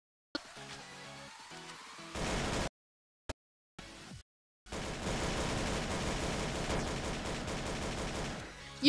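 Bursts of gunfire in a Roblox game, a short volley followed by near-silent gaps and a couple of isolated shots, then a long sustained stretch of rapid, loud firing.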